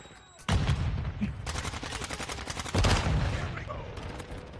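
Loud bursts of automatic gunfire ring out in a first-person shooter game, with rapid rattling volleys starting abruptly and a second heavy burst shortly after, close and dense, with faint game sounds between.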